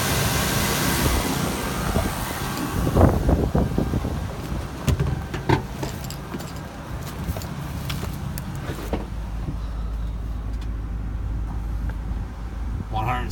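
A 2000 GMC Yukon's 5.7L V8 with 163,011 miles runs at a steady, smooth idle, faint and continuous beneath voices and occasional clicks and handling noises.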